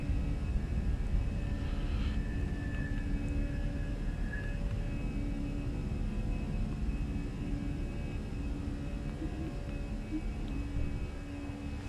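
Airbus A320 takeoff and climb in a flight simulator, a steady loud jet engine roar and rumble holding constant throughout with a faint whine, no talking over it.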